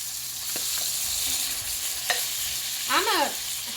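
A hamburger patty sizzles in a pan with a steady, close frying hiss, a few scrapes and spatula clicks, and a brief squeaky scrape near the end.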